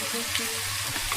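Vegetables sautéing in a covered pan give a steady, soft sizzle with faint watery bubbling, close and continuous for a brief moment.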